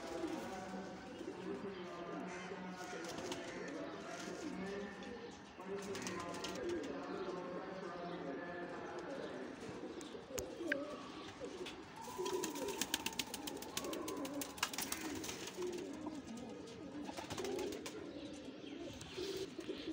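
About twenty pigeons coo steadily in the background, a low rolling murmur, with someone talking over them and some clattering.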